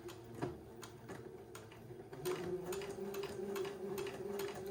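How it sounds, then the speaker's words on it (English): A sewing machine stitches entredeux lace along the edge of a sleeve opening, giving a steady close mechanical hum with quick ticking beats of the needle throughout. "Just sewing right along the edge of the entredot line."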